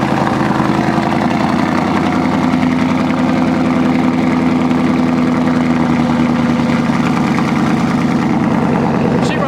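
A truck engine idles a little rough after a LubeLocker differential gasket install, with a steady, loud, continuous rumble carrying a faintly uneven pulse throughout.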